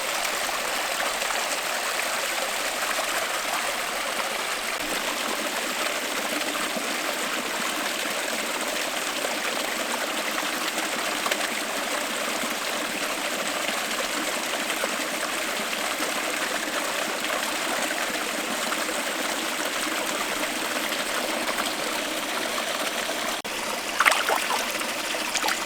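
A stream of clean, cold water flows over rocks, a steady close rushing and gurgling that continues unbroken, with a faint knock near the end and no speech.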